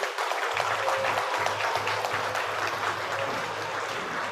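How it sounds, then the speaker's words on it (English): Sustained applause from a gathered audience at a science and technology forum greeting a guest of honour, a continuous dense wash of many clapping hands, loud and even, with a low background hum and no talk. "Another round of applause for Igwe."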